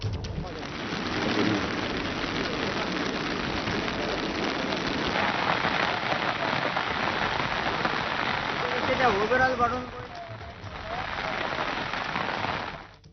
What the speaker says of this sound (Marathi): दिवसभर मुसळधार पावसानं हजेरी लावली